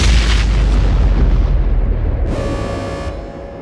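Loud, continuous booming explosions rumble through a space station under attack in a sci-fi drama, a dense low roar of impacts with a brighter ringing metallic burst near the end.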